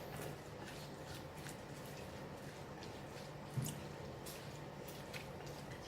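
Fried tofu tossed with dry shrimp and a spicy lime sauce, giving a steady run of soft, wet squishes and small drips up close, fairly quiet throughout, with one slightly sharper squelch partway through and no talking.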